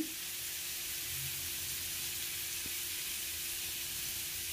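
Fresh grated coconut sizzles steadily in a pan while being fried for coconut chutney, a soft continuous hiss heard close up with no talk.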